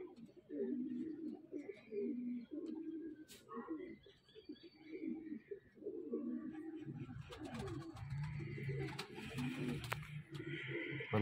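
Golden pigeon cooing in soft repeated low phrases close by, mixed with someone talking, with more rustling and a rising background of bird noise toward the end.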